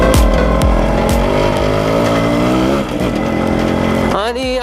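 A fully restored Yamaha RX-100 two-stroke 100cc motorcycle pulls hard in second gear, its buzzing engine note loud and close and rising in pitch before a shift near the end.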